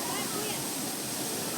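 Broad, steady roar of a 20-metre waterfall, close and continuous, filling the whole short stretch with dense rushing water noise that does not let up.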